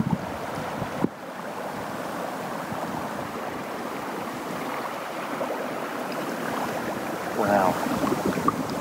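A fast incoming tide at the Rowley Shoals rushes and bubbles in a continuous watery wash mixed with wind noise, with a louder surge near the end.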